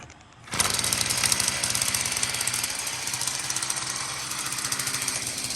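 A 49cc dirt bike engine fires up after a brief quiet moment, then runs with a fast, buzzing, rattly putter that stays close and steady until the end.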